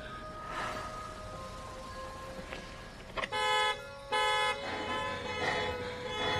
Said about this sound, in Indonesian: membuat keributan dengan menghidupkan alarm mobil